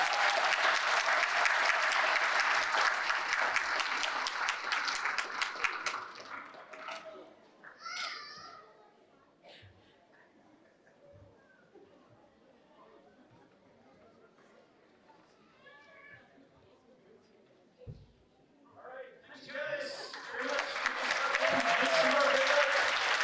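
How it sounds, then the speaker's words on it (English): Loud, dense audience applause with children's voices mixed in fills a 2024 arts festival highlights concert, fades to quiet murmuring and scattered voices in the middle, then swells back into full clapping at the end. "Big round of applause for all of them."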